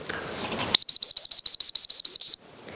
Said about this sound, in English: these dogs are highly trained to come to our whistle command